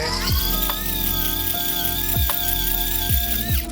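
Egg mixture for a matcha castella cake whisked by an electric mixer over heat, a steady high motor whine with repeated knocks and pitch dips as the beaters strike the bowl, close and loud, no talk.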